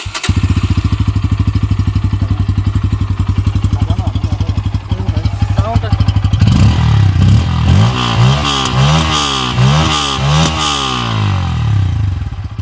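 Loud, close Bajaj Pulsar N160 motorcycle engine idling with a rapid thumping pulse, then revving up and down repeatedly.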